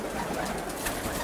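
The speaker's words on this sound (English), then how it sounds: "Down there, there is a white homer pigeon baby" Baby white homer pigeon cooing softly and continuously at close range, mixed with rustling and background noise, with no talking.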